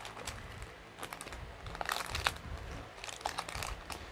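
Close, crinkly plastic wrapper being torn open and crumpled, with irregular bursts of sharp crackling and rustling.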